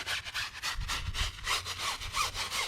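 Hand scrubbing an Enkei G-Zero chrome wheel: quick repeated back-and-forth brushing strokes, close and fairly loud, in an even rhythm with no voices.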